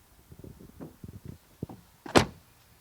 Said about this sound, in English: the door closing sound. Let's listen to that.